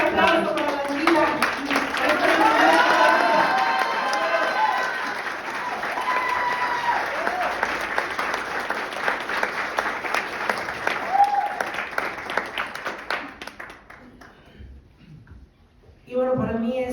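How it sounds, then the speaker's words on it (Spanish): An audience applauds an award recipient at a coaching diploma recognition ceremony, with dense sustained clapping and a voice speaking over it early on, fading toward the end before a brief renewed sound. "quiero pedir un aplauso para la chica"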